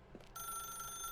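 A telephone rings in The Stanley Parable, a single bright electronic ring that starts abruptly and holds steadily, heard alone.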